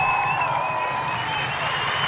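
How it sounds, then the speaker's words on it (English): An audience at a Kujichagulia toast gathering gives a round of applause for the Kuji born, a continuous wash of crowd clapping with a sustained tone ringing over it. "we want to give all the Kuji born, all the Kuji babies a round of applause"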